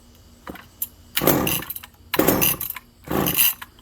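A McCulloch Power Mac 6 chainsaw catches on choke and fires in three short, loud bursts of engine roar, each dying back between pulls, close to the microphone.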